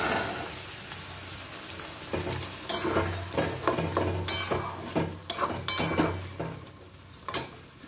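Green peas tipped into bubbling masala in a pan for a vegetarian matar paneer: a steady sizzle and simmer with repeated clinks and scrapes of a spoon stirring against the pan, loud and close, no talking.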